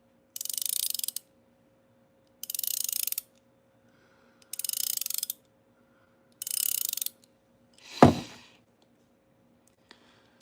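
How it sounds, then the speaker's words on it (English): A Cobalt ratcheting wrench makes four evenly spaced bursts of fast, bright clicking, each about a second long, followed by a single loud thunk, all heard alone against a quiet background. "Juan really, really, really gets excited when a cobalt ratcheting wrench does this"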